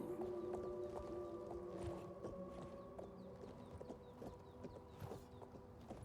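Horse hooves clip-clop steadily in the video game Oblivion, a regular trotting rhythm heard over sustained game music and ambient bird-like calls, moderately loud with no talking.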